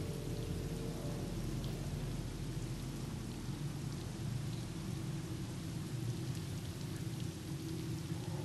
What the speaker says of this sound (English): Starting to come down. Perfect. A little rain never hurt anybody.